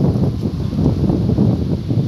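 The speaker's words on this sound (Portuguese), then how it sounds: "Olha o vento batendo, dá para até ouvir no microfone também." Wind gusts buffet the microphone on a warm street, producing low rumbling thumps and blustery swells that rise and fall irregularly without any voices.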